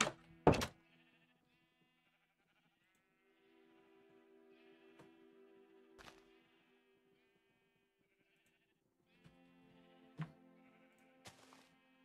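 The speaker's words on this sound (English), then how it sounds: "I have a ton of sheep here." Sheep bleating in Minecraft, several separate wavering bleats spread out with quiet gaps between them, alongside a few sharp knocks, fairly close and clear against near silence.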